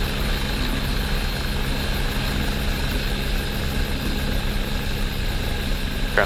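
Helicopter rotor and engine drone steadily while the aircraft taxis along an airport taxiway, a loud continuous whir with constant vibration and no pauses.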